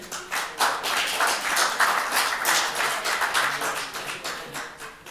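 Audience clapping at a weekly Torah study session, a steady patter of many hands that stays fairly even and moderately close for several seconds with no talk over it.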